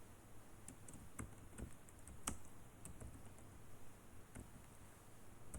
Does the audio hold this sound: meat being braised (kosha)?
no